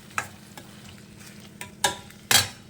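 Tomatoes and onions are stirred in a frying pan for a village-style snail gravy. A few separate scraping strokes of a spoon sound over a soft, steady sizzle, close by and fairly quiet.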